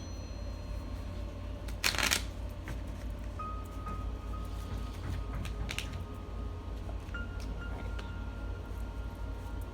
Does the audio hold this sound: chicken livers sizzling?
no